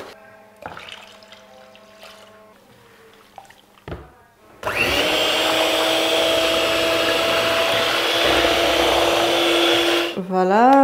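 An electric mixer blends shea butter face and body lotion, kicking in abruptly with a loud, steady whirring drone that runs for several seconds before cutting off. Quieter handling noises and brief tones come before it starts.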